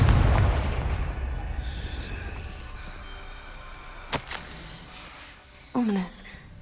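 A Confringo spell blast from the Hogwarts Legacy video game: a sudden sharp burst and crackle follows a short period of soft ambience and fading noise. A second brief pop comes near the end.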